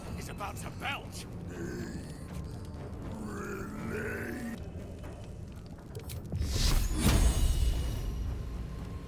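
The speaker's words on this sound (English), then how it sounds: "He's about to belch!" A creature in Baldur's Gate 3 lets out a deep, rumbling belch that swells loud near the end, following grunting and groaning game sounds with a voice underneath.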